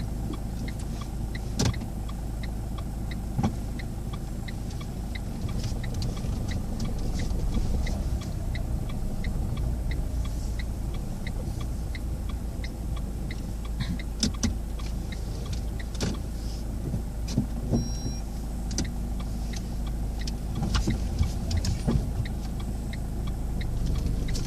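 A car's engine hums at low speed through a U-turn during an accompanied driving lesson in Gennevilliers, a steady close rumble inside the cabin with scattered small clicks and knocks.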